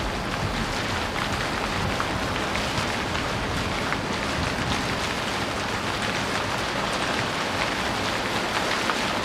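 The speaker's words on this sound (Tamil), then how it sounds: "ஜோன்னு மழை பெய்யுது." Heavy rain pours down steadily during a sudden thunderstorm, a dense, continuous hiss of drops drumming on surfaces, loud and unbroken throughout.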